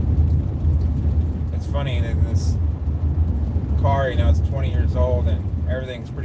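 A 20-year-old car with wood trim rattles while driving, a constant low road and engine rumble with a faint shaking beneath it, while people talk intermittently over it.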